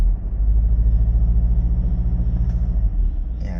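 2015 Chevrolet Captiva held at stall speed, engine droning steadily and loudly with a low, pulsing rumble and a faint whine above it, revving without ever climbing; nobody speaks over it.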